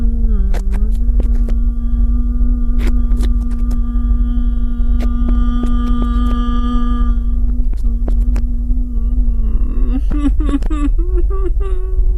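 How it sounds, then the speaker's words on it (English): Tuneless humming from beyond an open waterproof hatch, a steady low drone held almost throughout, with brief sharp knocks scattered over it and a wavering, rising tail near the end. "From beyond this, you hear a tuneless humming and the sound of footsteps."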